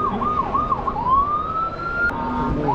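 A wailing electronic siren from a toy police motorbike sweeps up and down in quick cycles, then rises into a long steady tone, loud and close with a tinny toy quality.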